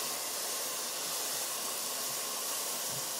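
Butter sizzles in a pan of tomato and wine sauce for a grouper dish, giving a steady, even hiss with no pauses and no voices.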